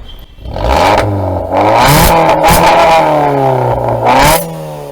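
Modified Maruti Swift with a Stage 1 plus performance setup and its exhaust switched on, revving repeatedly with rising and falling pitch, loud and close throughout with no talk.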